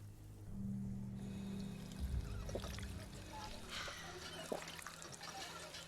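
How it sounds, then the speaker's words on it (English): Water splashes and trickles steadily from a pump as a character drinks in Fallout 4, over a low hum with a few small clunks and drips. "There's a water pump right here."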